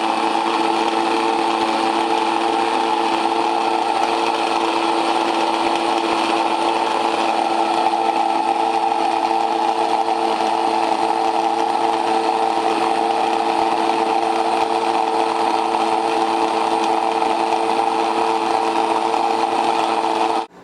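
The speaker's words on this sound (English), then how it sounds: "with this Como grain mill, I'm going to grind my own whole wheat flour" A Como grain mill grinds whole wheat kernels into flour with a continuous, steady mechanical whir and hum. The droning grind runs unbroken at a constant level until it stops abruptly at the end.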